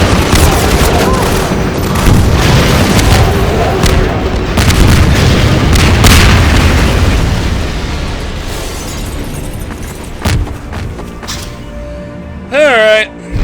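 Rocket explosions in Garry's Mod, with booming, rumbling blasts dense through most of the stretch and fading toward the end, a player talking over them.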